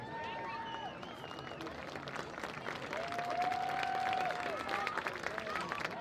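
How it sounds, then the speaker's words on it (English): Crowd applause and cheering fill the stands at a high school homecoming varsity football game, a steady wash of clapping with crowd noise and voices throughout the six seconds, rising slightly in the second half. "Let's give another round of applause for all of the 2025 homecoming court."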